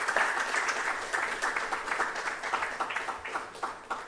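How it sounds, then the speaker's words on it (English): An audience at an opening ceremony for Noguchi Memorial Institute's Quality Week 2024 in Ghana applauds with dense, sustained clapping from a crowd, moderately distant and even in level from start to finish. "Can we please clap for NOGUCHI Memorial Institute?"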